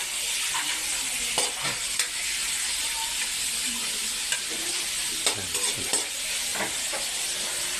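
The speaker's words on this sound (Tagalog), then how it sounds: "Kasi ginigisa natin sibuyas at bawang para mas malasa pag ginisa mo." Onion and garlic sautéing with pork in a pan give a steady, dense sizzle, broken by occasional spatula scrapes and taps close by, with no talk.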